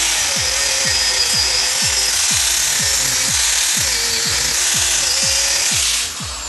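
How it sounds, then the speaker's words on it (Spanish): Angle grinder held nearly flat while cutting metal on a car steering wheel mount, a steady loud high whine running throughout with regular low rumbling pulses, cutting off abruptly near the end. "Hay que intentar mantener la radial lo más plana posible siempre"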